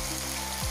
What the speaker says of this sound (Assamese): এতিয়া মই এইখিনি অকণমান ভাজি লৈছোঁ।